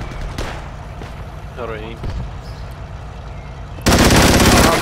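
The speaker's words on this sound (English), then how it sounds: "Dude, MG42 is no joke." MG42 machine gun fire in the Project Reality military game, a long loud sustained burst near the end following muffled distant gunfire and ambient noise, with a player briefly talking over the start.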